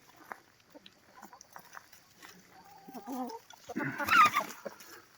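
Free-ranging chickens and roosters in a backyard coop area, with scattered clucks and squawks building to a louder flurry of agitated calls near the end, as if birds are chasing one another.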